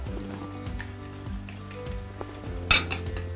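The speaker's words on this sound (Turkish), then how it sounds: "Topaklanmaması için iyice karıştıralım." A spoon stirs ayran soup with chard in a metal pot, with soft scraping and light clinks against the pot, a louder clink near the end and a low background hum, close by.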